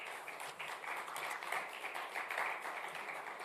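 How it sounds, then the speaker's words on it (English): Audience applause at a live-streamed event in Nigeria as a speaker comes on stage, a steady wash of clapping held at moderate, fairly distant level throughout with no talk over it. "can we give them a round of applause?"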